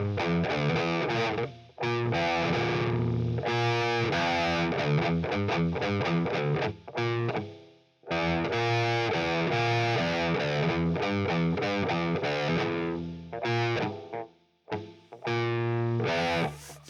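Electric guitar played with a distorted metal tone through the ToneLib amp simulator, with chugging, sustained riffs and a few brief pauses, loud and close, no talking.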